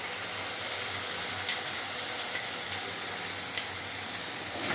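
Pasted onion and green and red chilli fry with tomato in a pan for a fish curry masala, giving a constant close hiss of frying and steam with a few faint stirring clicks and no talk.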